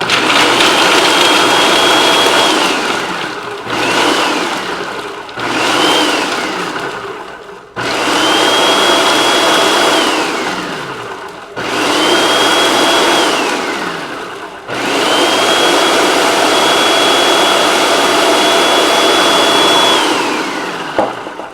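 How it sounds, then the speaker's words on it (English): Food processor pulsing cashews into a vegan parmesan mixture, loud grinding whirs in about six bursts of two to seven seconds each, with brief pauses between, close and alone. "I'm gonna kind of pulse it so that it doesn't turn into cashew butter"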